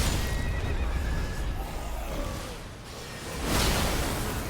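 A horse neighs and whinnies in the video game Elden Ring over a low, continuous rumble, with faint whooshing movement sounds.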